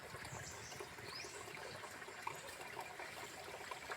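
Water trickling from a drinking-water pipe outdoors, a steady soft running-water wash that continues without a break and sits at a moderate, even level with no talking.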